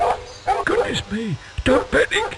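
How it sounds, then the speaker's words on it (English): A dog in the PC game The Animals of Farthing Wood barks and yips in short bursts, mixed with whimpering, while a voice speaks over it. "I think that's a dog."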